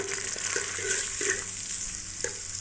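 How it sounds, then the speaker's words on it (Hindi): Two onions frying in hot ghee for vegetable fried rice, a steady close sizzle with occasional stirring scrapes and clinks throughout, no voices. "तो घी हमारा गर्म हो चुका है, इसके अंदर हम लोग 2 अदद प्याज ऐड करेंगे।"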